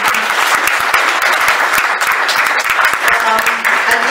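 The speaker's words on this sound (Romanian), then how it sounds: "Cred că putem să-i și aplaudăm puțin" Loud, sustained audience applause at a live talk on hacking and security, a thick wash of many hands clapping steadily for about four seconds.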